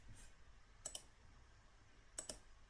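Two separate double-click bursts from a computer mouse, crisp and close, spaced about a second and a half apart against a quiet room while working in drawing software.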